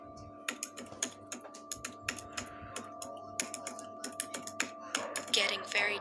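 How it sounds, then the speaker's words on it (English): Rapid keystrokes on a computer keyboard tap out an uneven run of clicks in a dead-quiet building at night, close and distinct over a faint steady hum, in an animated horror scene. "dead silence reigned in the building, broken only by the sound of her keyboard"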